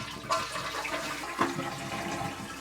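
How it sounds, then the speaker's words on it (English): Toilet flushing with a Super Flapper fitted, a close, continuous rush and gurgle of water with a couple of splashy surges, no talk. "Now what we'll do is we'll flush it."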